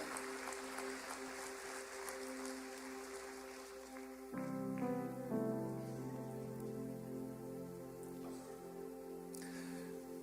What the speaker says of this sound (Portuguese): Você pode aplaudir o Senhor mais uma vez, querido.